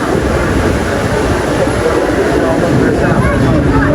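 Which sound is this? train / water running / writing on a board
train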